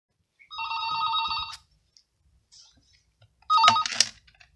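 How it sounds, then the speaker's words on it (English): A hotel room telephone rings nearby with a wake-up call in two short trilling bursts separated by a pause, with quiet room sounds between the rings. "That was my alarm call."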